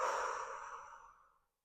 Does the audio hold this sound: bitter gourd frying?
no